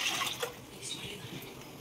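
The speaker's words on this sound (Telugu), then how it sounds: "ఇప్పుడు ఈ సాబ్దానా కడుక్కుంటున్నానండి." Sabudana (sago pearls) being washed in water in a kitchen bowl, with soft sloshing and trickling sounds under a faint background hum, close and quiet.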